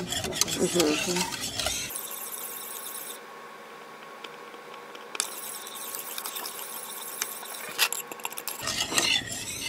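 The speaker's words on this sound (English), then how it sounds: "Just make sure you scrape all the bottom." A spoon stirs and scrapes the bottom of a trifle pot with close, continuous rasping and squeaking strokes. Louder clatter comes at the start and end, with no talking.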